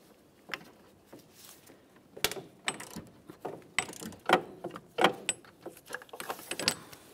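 A 13mm ratchet works the lower alternator mounting bolt on a 2012-2018 Nissan, giving a run of close, irregular metallic clicks and clatters that grow busier toward the end, with no talk.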